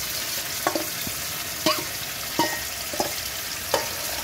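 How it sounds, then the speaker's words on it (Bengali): Koi fish frying in hot oil with spice masala produces a continuous loud sizzle, punctuated by a few sharp spatula scrapes and stirs. "এবার কই মাছটা দিয়ে দিলাম"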